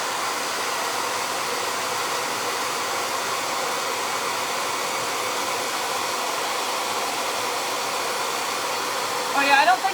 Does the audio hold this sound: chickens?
no